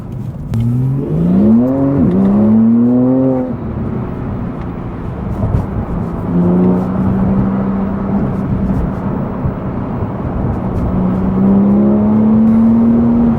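A Porsche 911 Turbo S driven hard accelerates: loud, close engine note climbing in pitch through repeated rising sweeps, with shifts between gears and a sustained high drone toward the end.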